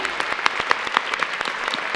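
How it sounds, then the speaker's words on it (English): Audience applause in a conference room, a dense burst of clapping from many hands, loud and close, with no talk over it. "And I want everyone in this room to clap for them,"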